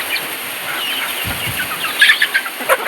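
Several chickens cluck and chatter nearby in quick, uneven bursts over a faint background hiss, in a rural province yard.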